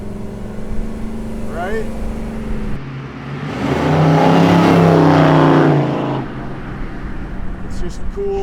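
A 1971 Chevrolet Chevelle SS 454 with Hooker headers, running rough, idles with a lumpy burble, then revs up into a loud swelling roar that falls back to idle; someone speaks briefly.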